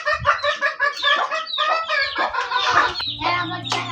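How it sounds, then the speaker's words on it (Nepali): Young chicks and hens on a Nepali household farm cluck and peep continuously in a busy, close chorus, with a low steady hum entering near the end. "यहाँ भाइको चल्लाहरू पुरा"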